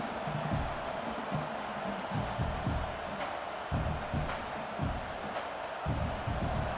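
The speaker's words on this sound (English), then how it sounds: "the crowd coming to life here, trying to help this defense down in the red zone" A stadium crowd roars in a steady broad wash of noise at an LSU versus Clemson game in College Football 26, with dull thumps pulsing through the din.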